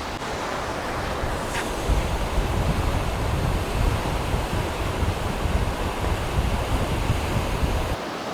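Eastern Nayar river flowing below a roadside viewpoint near Bejro, a steady broadband rush of water with wind buffeting the microphone, loud and continuous throughout with no talk.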